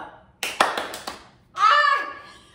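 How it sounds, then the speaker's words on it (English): Several quick hand claps in a short burst while a scarf is tossed and caught during a workout, followed by a brief vocal exclamation and one more clap at the end. "Toss whatever you're tossing up and see how many times you can clap before you catch it again."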